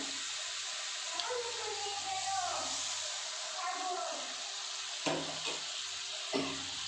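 A small splash of water poured into a sizzling spice mix in a pan while cooking an aar fish dish, with brief trickles and hissing under a voice talking.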